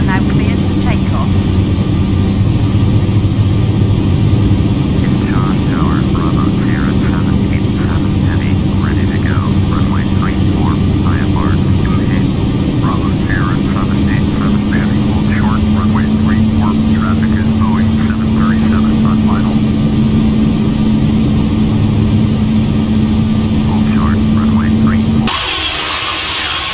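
A Korean Air Airbus A330 jet in Flight Simulator X rolls for takeoff, a loud, steady engine roar with a rising whine. The drone fills the whole stretch with faint chirpy tones above it, then drops abruptly near the end.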